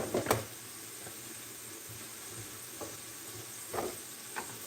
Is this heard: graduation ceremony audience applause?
no